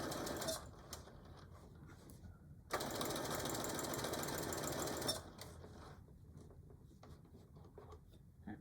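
A sewing machine back-stitches the corner of a canvas tool carry bag, running in a short steady burst, then a longer louder stretch, with quiet pauses between.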